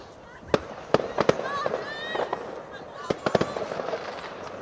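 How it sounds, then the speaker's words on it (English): Sharp firework bangs and crackling pops burst close by during a university football match, a rapid irregular string of loud reports with whistling streaks between, and voices faintly underneath. "That one was very close, that firework."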